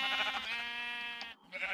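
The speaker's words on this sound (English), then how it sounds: "So we have 2 red sheep here." A single sheep bleats in the video game Minecraft, a clear, wavering, nasal call lasting over a second, close and alone.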